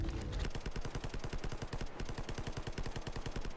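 Rapid automatic gunfire from S.T.A.L.K.E.R. GAMMA rattles in a steady, loud burst of evenly spaced shots after a brief heavier opening blast, with no voices over it.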